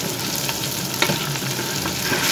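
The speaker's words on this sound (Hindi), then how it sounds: "मसाले को भूनेंगे।" Masala of red chilli powder and salt sizzles and fries in a pan for besan alty palty, a steady close crackle with a few soft stirring scrapes, no voices.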